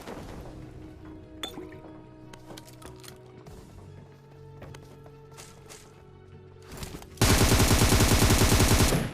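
In PUBG Mobile, scattered gunshots and game sound effects give way to a loud sustained burst of rapid automatic fire near the end.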